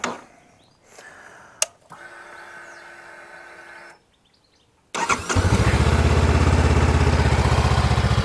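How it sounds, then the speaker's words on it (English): A Honda NX500 motorcycle fires up on the starter button after a few seconds of quiet background, catching at once and settling into a loud, steady idle close by. "As you can see, she starts immediately on the button, no hesitation whatsoever."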